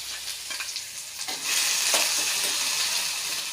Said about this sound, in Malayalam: ഇനി നമുക്ക് ഇഞ്ചി പച്ചമുളകും ചതച്ചിട്ട് കൊടുക്കാം.